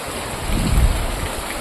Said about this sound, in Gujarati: અહીંયા ફૂલા ફૂલ વરસાદ આવ્યો